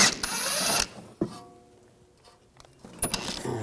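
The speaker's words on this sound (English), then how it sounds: "Now we're going to take the two bolts out where the mount is. Use a 16mm socket." Ratchet with a 16mm socket loosening the rear shock mount bolts on a 2011-2018 Volkswagen Jetta, heard as bursts of clicking and metallic mechanical noise at the start and end, with a quieter pause between.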